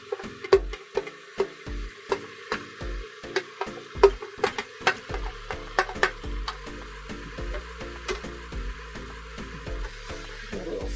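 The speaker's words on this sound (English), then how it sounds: "A little stir." Beef tips with their juices are stirred in an Instant Pot, producing a steady series of close, rhythmic spoon clacks and scrapes against the metal insert over a low hum.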